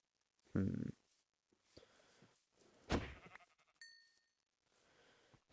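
Sheep in a video game bleat in short bursts with quiet gaps between them, and a small electronic ding sounds partway through.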